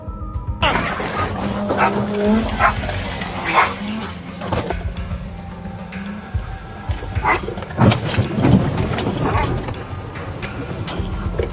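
A police dog barks in repeated bursts during a tense arrest at a stopped car, close and loud amid officers' shouted commands and radio chatter.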